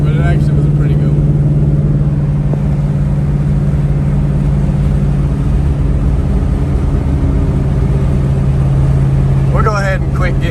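A 500 hp WS6 car engine drones loudly and steadily from inside the cabin while driving, a constant low hum with road noise and a brief squeal near the end.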